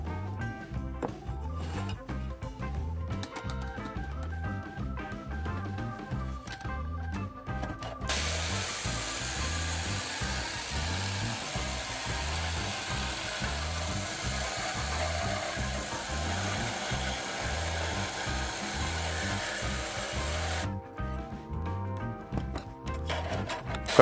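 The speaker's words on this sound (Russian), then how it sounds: "Теперь вставляем эту конструкцию в лобзик и пробуем тестировать." An electric jigsaw fitted with a homemade attachment runs continuously, its fast rhythmic reciprocating buzz steady throughout, with a brighter, harsher stretch in the middle as it works the workpiece.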